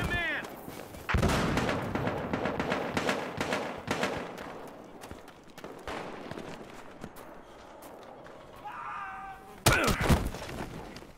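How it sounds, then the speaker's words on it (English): Battlefield Hardline gameplay with a grenade explosion and bursts of gunfire, sharp loud impacts and shots scattered through a busy, noisy firefight, with a brief voice or radio chatter near the end. "Throw a grenade!"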